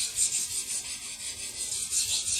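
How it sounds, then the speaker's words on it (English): Steel knife blade being ground on a sharpening stone to repair a chipped edge, a steady, close, hissing rub with rhythmic back-and-forth strokes and no talk. "once I finish grinding with this stone, I'll be progressing to my 6000 grit stone"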